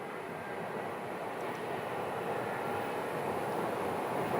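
Frontier airliner departing Sky Harbor airport, a steady broad jet roar at moderate distance that holds constant and swells slightly toward the end, with no talk over it.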